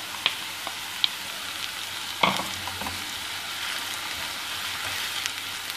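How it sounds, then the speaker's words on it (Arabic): Onion and pepper fry in a pan with a soft, continuous sizzle, broken by a few faint pops and one louder clatter of stirring midway, with no talking. "قلينا البصل، نزيدوا الفلفل حتى هو مقليوه"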